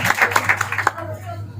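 A church congregation claps briskly together for about a second at a worship service, the rapid claps nearby and fairly loud, then fading as a voice begins speaking.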